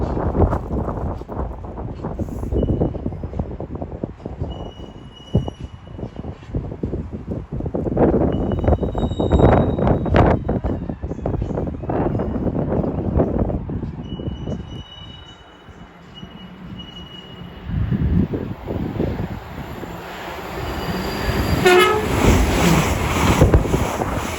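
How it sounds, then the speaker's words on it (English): An Avanti West Coast class 805 unit running from Chester to London Euston passes through Watford Junction on the West Coast Main Line, a loud sustained rumble and wheel roar that swells and eases with wind buffeting the microphone. "Pass through now will be Avanti West Coast 805 unit going from Chester to London Euston"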